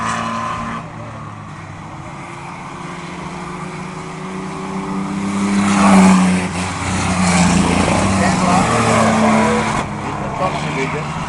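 Race trucks lapping during a dirt-track qualifier, a continuous engine roar that swells as the pack passes close by, with a track announcer talking over the noise throughout.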